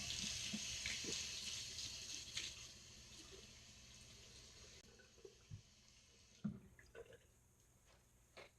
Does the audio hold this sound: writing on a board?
no